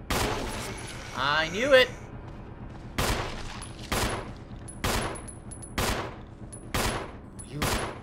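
Repeated gunfire in the video game Resident Evil Remastered, six sharp shots at roughly one-second intervals after an early burst of game noise, with a voice speaking briefly.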